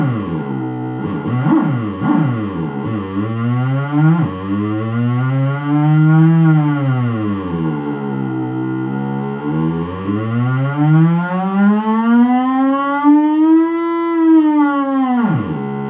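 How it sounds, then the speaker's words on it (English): An Acoustic 360 bass amplifier with its fuzz switched on produces a distorted, siren-like tone that repeatedly swoops up and down in pitch, loud and sustained, with no voices. "You can do some crazy siren stuff"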